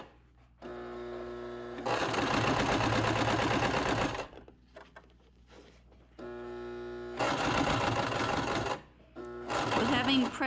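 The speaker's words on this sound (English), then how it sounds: "As you can see, it is sewing nicely on both sides." A sewing machine runs in bursts as it stitches fabric for a tie face mask, loud and close, with pauses between the runs and some quiet talk in the gaps.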